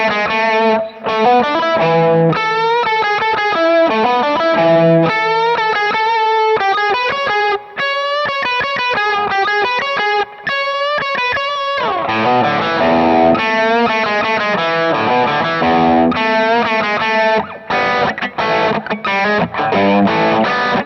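An electric guitar played through a vintage British plexi amp profile with Mullard tubes rings out loud and distorted, with sustained rock chords and riffs, brief gaps between phrases and no voices.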